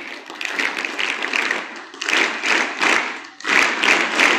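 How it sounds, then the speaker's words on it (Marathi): An audience at a school felicitation ceremony for 10th and 12th grade students claps in unison, three loud bursts of group applause separated by short pauses. "आभार मानताना 3 टाळ्या. 1 2 3."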